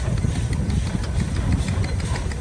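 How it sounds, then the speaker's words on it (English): A Case steam traction engine of about 20,000 pounds with a locomotive-style boiler runs at a steam show in Halltown, Missouri, giving a steady low mechanical chugging rumble up close, with no talk. "they've moved over to this Case steam engine, and Ethan's doing an excellent job running"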